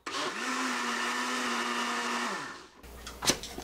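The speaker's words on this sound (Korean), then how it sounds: "이걸 다시 한번 갈아주겠습니다." A blender grinds soybeans with water and toasted sesame seeds for chilled soy-milk noodle soup, a loud steady motor whir that runs about two and a half seconds, winds down, then leaves a brief clatter.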